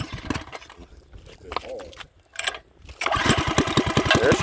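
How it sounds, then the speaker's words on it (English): Mini bike engine, a build said to reach 65 mph, pull-started in the open with dust off the road: a rough sputtering catch, then a steady loud rapid putter for the last stretch, with people talking over it. "Don't give me no gas, just pull it and crank up."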